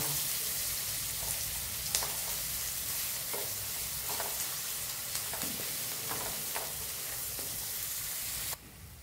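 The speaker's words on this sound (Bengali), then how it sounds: "একটু লাল করে ভেজে নেব" Onions fry in a pan for a bitter gourd side dish, giving a steady close sizzle with occasional light clicks from stirring and no talk.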